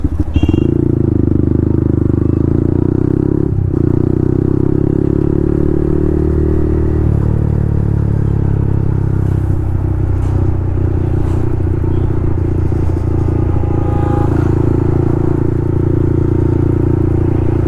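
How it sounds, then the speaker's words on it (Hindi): A Yamaha MT-15 motorcycle fitted with a loud Akrapovic full-system exhaust rumbles close by, its engine note rising and falling, with scattered sharp crackling pops from the exhaust toward the end. "ये लो क्रैकल्स।"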